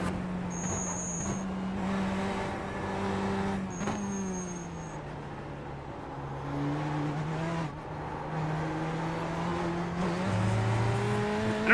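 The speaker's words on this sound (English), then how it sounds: "the Ford GTE makes a real weird whining noise." A Ford GTE race car in the iRacing video game, its engine whining and droning steadily with rising and falling pitch as it shifts and accelerates, the tone continuous throughout.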